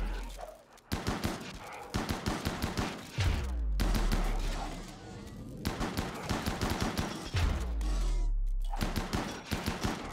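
Centipede mechanoids in RimWorld open fire with rapid bursts of machine-gun shots, dense crackling volleys broken by deeper booming impacts, loud and sustained across several seconds with no talk.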